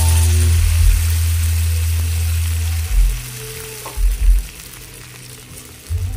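Second-pressing coconut milk poured into a simmering pot of leftover fried tuna with pechay, moringa and eggplant gives a loud, close sizzle and bubbling hiss, followed by a few stirring bumps.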